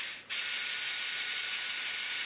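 A Roomba edge sweeper's small gear reduction motor switches on and runs with a steady, close, high-pitched whirring hiss after a brief moment of quiet.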